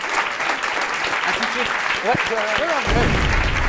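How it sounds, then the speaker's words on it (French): A studio audience on a French talent show applauds a performer, steady clapping running throughout, with tonal sounds and voices mixed over it. "On applaudit Didou."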